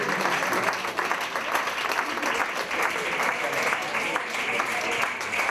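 Loud, sustained applause from the audience at a stand-up monologue contest, steady and dense throughout with a faint voice or two mixed into the clapping.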